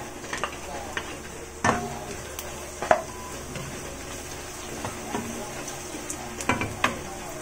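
Onion stir-fried in a pan for a pork and vegetable stir fry, a soft steady sizzle broken by scattered clicks and scrapes of a utensil against the pan, fairly close and fairly quiet.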